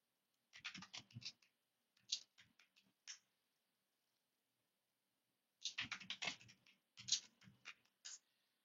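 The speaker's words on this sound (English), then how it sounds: "Let's type manually." Manual typing on a computer keyboard while entering a database admin password, with two bursts of quick, close key clicks separated by a silent pause.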